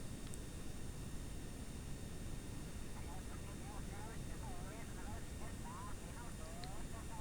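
Rocket engine in Kerbal Space Program burning at low throttle, a steady loud broadband roar without a break, with faint chirpy tones above and a person talking over it.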